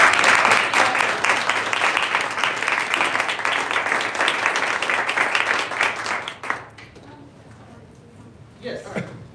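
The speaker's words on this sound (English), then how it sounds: "let's give him a round of applause." Dense audience clapping at a kids' robotics event in Chicago holds loud and steady for about six seconds, then dies away into a quiet room before a brief voice speaks near the end.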